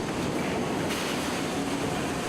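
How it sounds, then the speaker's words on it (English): A hot steel ribbon being water-cooled at the end of a rolling mill line gives off a loud, steady rushing spray and roar that holds unbroken throughout, with no voices over it. "The ribbon of steel is then cooled with water"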